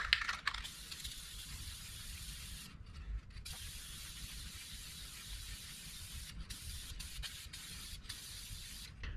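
Air filter treatment hisses from an aerosol can onto a GYTR high-flow air filter for a Yamaha YXZ, a long steady spray broken by a few short pauses, close and alone with no talking.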